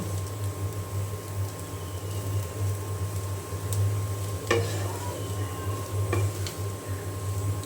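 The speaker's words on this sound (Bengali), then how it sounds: "এখানে আমার আলু ভাজিটা হয়ে গিয়েছে আমি এখন নামিয়ে নিব" Potato bhaji frying in a pan with a steady low sizzle, while a utensil gives a couple of brief scraping stirs against the pan.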